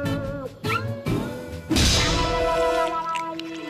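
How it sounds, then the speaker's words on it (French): A cartoon cat in an animated Lucky Luke episode gives several short, bending meows, then a loud crash or thud hits, followed by further sustained tonal sounds and fainter meow-like calls. "Un chat."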